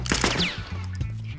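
A sharp gunshot striking an enemy's helmet in The Last of Us, a quick loud crack with a ringing metallic whine trailing off, followed by low game rumble.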